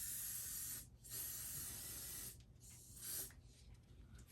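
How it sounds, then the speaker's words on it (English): Aerosol spray coating is applied to a craft gnome's ponytail in three long hissing bursts separated by brief pauses, close and steady with no voices. "Put another coat of spray on the ponytail"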